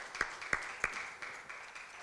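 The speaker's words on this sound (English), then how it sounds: "Big round of applause for Mr." A conference audience at a panel session applauds a panelist with a few sharp, distinct handclaps at a steady pace, then softer, scattered claps that fade into room noise.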